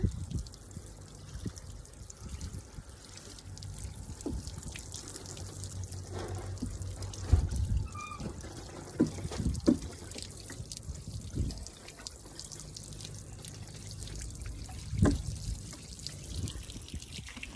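Quiet running water splashes and trickles irregularly, with occasional drips and soft knocks, like a shower spraying nearby, on a hot Saturday in Japan.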